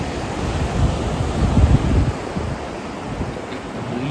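Sea waves surge up the sand at Mypadu Beach in Nellore, a broad rushing wash that swells to a peak midway and then eases, mixed with steady wind buffeting.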